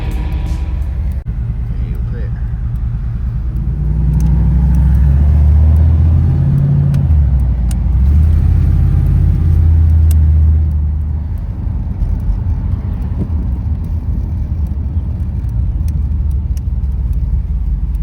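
A luxury travel van that has sat unused for over three years rolls up and parks, its engine rumbling low and steady, swelling briefly mid-way before settling, with people talking over it.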